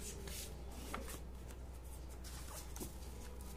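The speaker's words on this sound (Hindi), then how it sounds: "शफल कर लेती हूं मैं कार्ड्स" Tarot cards are shuffled by hand in a soft, continuous riffling patter, faint and close, with no voices over it.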